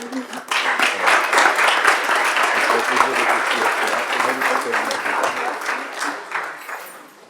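Council members and attendees at a municipal council meeting break into applause, a close, busy burst of clapping mixed with murmured voices that fades toward the end.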